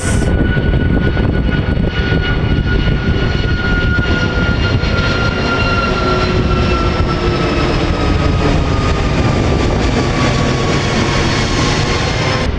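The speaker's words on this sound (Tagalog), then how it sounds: "Yun, shout out sa aeroplano." Airplane passing overhead at dusk above a cold fishing spot, a steady, loud engine drone with a high whine that holds throughout and slowly shifts in pitch, with no talking.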